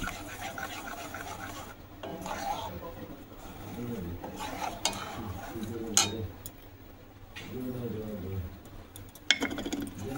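Thickened milk stirred in a pan after lemon juice is added, with soft scraping and rubbing strokes under low background noise, punctuated by occasional light clinks of a spoon.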